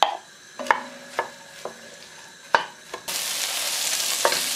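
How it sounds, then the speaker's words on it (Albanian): Onions sizzling in oil while a spoon stirs them, with sharp scraping knocks at irregular intervals, then a steady loud hiss of frying taking over near the end. "ja qesim 500 g qep edhe i fërkojmë derisa të skuqen."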